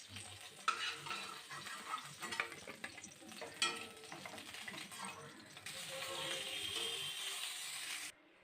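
Black cumin, potato and eggplant frying in oil for a home-style Bengali fish curry: a steady sizzle with spoon stirring and scraping in the pan. The frying hiss grows denser toward the end. No voices.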